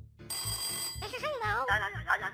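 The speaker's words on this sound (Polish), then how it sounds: "Nagle do naszego trolla dzwoni telefon." A telephone rings in the video game Troll Tale, a close electronic bell trill repeating in quick bursts over a low rhythmic game music loop.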